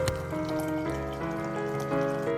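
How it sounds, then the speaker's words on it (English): Hot water, about a liter, pours steadily into a pot of moong dal seasoned with turmeric and salt, a continuous close gushing stream with a rising pitch as the pot fills. "Pour in about a liter of hot water."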